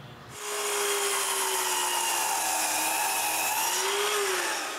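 A power tool cuts wooden shelf braces in a workshop: a sharp whine starts abruptly, holds steady with a slight wavering pitch for several seconds, then tapers off, with no talk.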